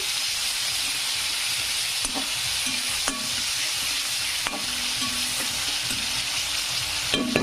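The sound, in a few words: frying tomatoes in a pan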